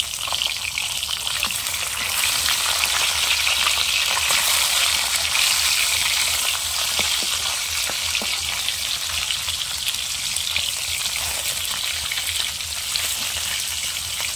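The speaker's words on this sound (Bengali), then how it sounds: "মাছের একটা পাশ ভালো করে ভাজা হয়ে গেছে, এবার মাছটা আমি উল্টে দিচ্ছি" Fish sizzle steadily in hot oil in a wok as they are turned over, giving a constant, bright frying hiss with faint scattered spatters and occasional utensil contact. No one speaks over it.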